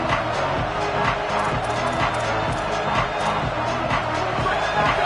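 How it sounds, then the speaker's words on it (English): A packed stadium crowd at an Iowa vs Washington college football game roars in a steady, dense wall of cheering on third down, with rhythmic thumps running through it and no clear talk. "Decibels rising as the crowd gets behind this defense on 3rd down."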